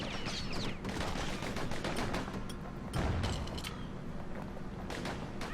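Rapid gunfire from the Kid's guns in the game Bastion, with sharp repeated shots in quick bursts over a busy, loud action soundscape with mechanical clanks.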